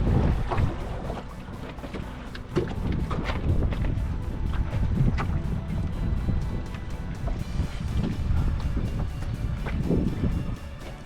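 Homemade wooden sailboat coming about on open water, with steady water wash and wind rushing close by, punctuated by knocks and creaks of the hull and rigging throughout.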